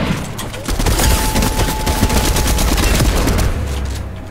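Dense, loud gunfire from the video game Fortnite rattles continuously for several seconds in rapid overlapping bursts, with a steady low rumble underneath.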